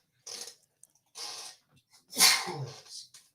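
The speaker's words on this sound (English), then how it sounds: "I had to sneeze." One person sneezes close to the microphone: a few short breathy intakes, then a single loud explosive sneeze with a trailing exhale, in a quiet room.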